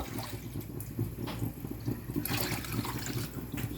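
Broth for pansit bato bubbles and burbles in a pot as it comes to a boil, a faint, close, steady stream of small pops and liquid churning with no talking.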